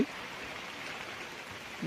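Heavy rain falls near a jamun (blackberry) tree as a steady, faint hiss that runs through the whole short stretch with no other sounds.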